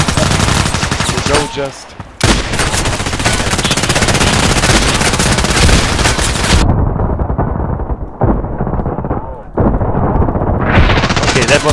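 Loud gunfire in the video game Contract Wars, heavy repeated shots from an MP-133 pump shotgun and rifles in dense bursts with brief pauses, close and dominant, while a voice briefly speaks.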